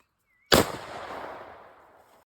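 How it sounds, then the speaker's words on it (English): A single loud shot from a .425 Westley Richards double rifle fired at a buffalo during a hunt in Niassa, a sharp crack followed by a long rolling echo that fades over about two seconds. "The buffalo had taken the first shot"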